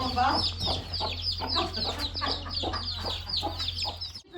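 Chicks and chickens on a village farm cluck and cheep in quick overlapping bursts close by, over a steady low hum, then cut off abruptly.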